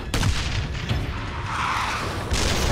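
A rocket fired at a T-54 tank, jamming its turret, lands as a heavy, rumbling boom with a deep, noisy blast that swells and lingers over a dense wash of battle sound.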